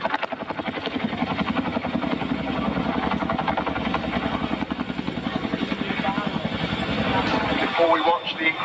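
A Chinook helicopter passes overhead at an air display, its twin rotors producing a loud, rapid rhythmic thudding that holds steady before swelling near the end, with an announcer talking over it.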